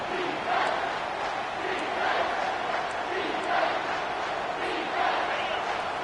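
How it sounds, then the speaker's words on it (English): College football stadium crowd roars for the defense, a broad continuous din with rhythmic swells of cheering and chanting at a distance, with commentary running underneath. "The crowd getting behind this defense as they try to get a stop in the red zone"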